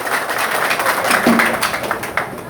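An audience of agents clapping, a loose, steady spatter of hands throughout, moderately close in a room, with faint murmuring underneath.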